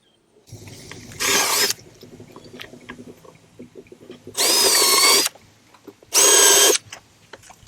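A power drill drives screws into a wooden American kestrel nest box in three loud whirring bursts, each about a second long, separated by quieter handling noise.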